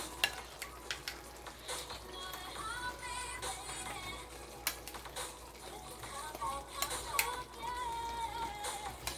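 Pineapple chunks are stirred into Jamaican-style sweet and sour snapper frying in a pan, with a steady sizzle under repeated sharp clacks and scrapes of the spoon against the pan.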